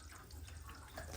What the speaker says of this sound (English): we're going to start draining the water with our antifreeze in it